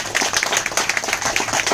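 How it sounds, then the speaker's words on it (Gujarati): An audience at a product seminar in Ahmedabad claps for a speaker: brisk, dense clapping from many hands, close and fairly loud, steady across the short stretch with no talking. "સાહેબ માટે ફરીથી દિલથી જોરદાર તાળી દીધો"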